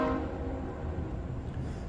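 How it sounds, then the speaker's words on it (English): A train rolls past close by with a steady rumble, a horn blast sounding at the start before the passing noise carries on alone. "And the train coming by"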